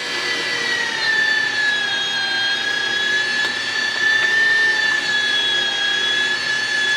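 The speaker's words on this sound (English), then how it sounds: "we do have a pretty good home meat grinder. So let's grind up some pork butt" A home meat grinder grinding cold pork butt, a steady loud motor whine with a sustained high tone running continuously without pause.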